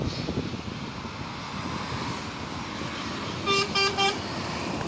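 Three short, loud blasts of a truck horn ring out near the end over steady roadside traffic rumble, a tonal toot-toot-toot at close range, with no talk.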